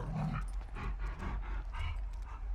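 A dog in the GTA 5 video game pants and sniffs in quick, soft bursts close by, a rhythmic run of breaths at low level with no talk.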